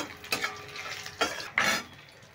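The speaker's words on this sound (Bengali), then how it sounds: "বড়িগুলো দিয়ে আমি একটু হালকা লালচে করে ভেজে নিচ্ছি।" Broken lentil dumplings (bori) frying in a pan after a spice tempering, with a few sharp spoon-and-pan scrapes over a low, steady sizzle.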